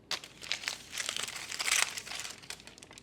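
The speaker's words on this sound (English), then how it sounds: "Now let's go ahead and peek under the foil." Aluminum foil crinkles as it is peeled back from a freshly baked pulled pork tater pie with melted cheese, a close, continuous rustling crunch lasting a few seconds with no talking.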